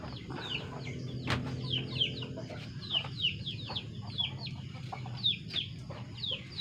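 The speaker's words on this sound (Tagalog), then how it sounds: "Yan guys, mga manok." Chickens cluck and chatter repeatedly at close range, with short calls scattered throughout over low background rumble and farmyard noise.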